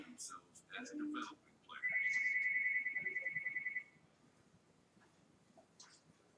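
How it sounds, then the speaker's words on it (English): A landline house phone rings at home, a steady electronic tone trilling for about two seconds, moderately loud, with a person talking just before and faint voices after. "that's just my house phone"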